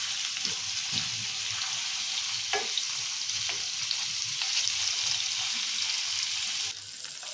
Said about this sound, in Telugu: ఇలా తిప్పుకుంటా ఒక్కొక్కటి ఇట్లా మళ్ళీ వేసుకుంటా మంచిగా ఫ్రై చేసుకోవాలి